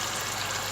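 Water poured into browned beef in a cooking pot for a Peshawari beef Shinwari karahi, a brief, steady, close rushing splash with no talk.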